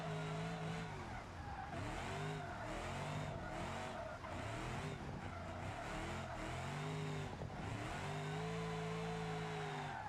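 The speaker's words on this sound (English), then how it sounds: "I'm in fourth gear, deliberately tacking off the rev limiter." A drifting car in the BeamNG.Drive racing game bounces off its rev limiter in fourth gear, a loud, continuous engine roar with repeated sweeping rises and falls in pitch and stuttering limiter cuts throughout.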